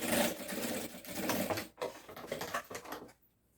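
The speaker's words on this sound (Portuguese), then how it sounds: "Você faz essa costura. Vai ser uma costura rápida, mesmo, simples." A sewing machine runs in short bursts, stitching a padded nylon strap for a delivery backpack with EVA foam padding, its rapid motor whir close and steady before stopping near the end.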